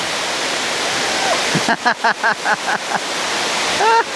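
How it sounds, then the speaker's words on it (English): A loud, close indoor waterfall in Singapore roars with a steady rush of falling water. Partway through, a person speaks briefly over it in short bursts. "Apparently that's like the largest indoor waterfall somewhere."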